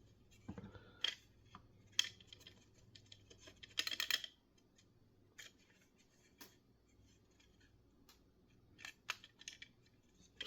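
Small loose parts clatter and tick inside an N64 WWF War Zone game cartridge being shaken, sparse irregular rattles and scrapes at close range, quiet between bursts.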